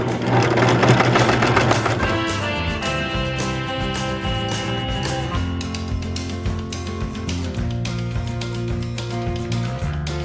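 A sewing machine stitches wedding gown fabric in a steady, loud, continuous mechanical whir with a rapid needle rhythm, close up and running alone throughout.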